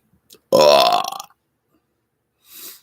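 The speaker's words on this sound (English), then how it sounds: "Glad you enjoy my burps" A single loud, close human burp lasting under a second, with a rising, croaking pitch, followed by near silence and a faint breathy noise afterward.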